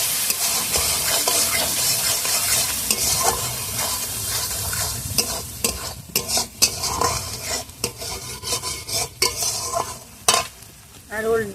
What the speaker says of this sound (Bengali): দিয়ে মশলাটাকে আমি ভালোভাবে কষিয়ে নেবো